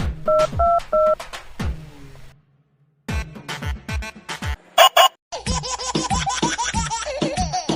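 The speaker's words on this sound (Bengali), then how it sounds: "ফোনটা করি 100 ঘন্টা নিউজকে জানিয়ে দিও ওদেরকে।" Telephone keypad tones beep in quick bursts as a number is dialed, bright clear electronic tones separated by short gaps, with clicks and a brief silence in between.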